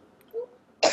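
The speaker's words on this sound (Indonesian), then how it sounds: "Ada yang batuk." A short, loud cough bursts out near the end of a quiet moment on an online business-training call, with only faint background sound before it.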